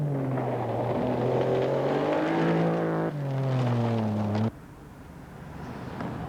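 A leased Mazda rally car at Rally New Zealand 1992 roars past close by, its engine pitch climbing hard through the gears before cutting off abruptly, leaving a quieter distant drone.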